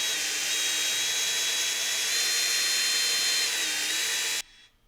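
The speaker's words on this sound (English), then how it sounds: "Let the drill do the work." A power drill with a buffing pad working scratch-removal paste over car paint, a loud steady high-pitched whine running continuously up close before cutting off abruptly near the end.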